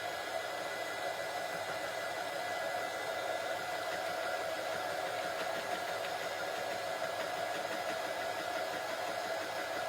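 A hair dryer blows steadily over freshly painted pieces of a small star-spangled angel craft, a constant close whooshing hum with a faint whine that runs unbroken for the whole stretch with no voices.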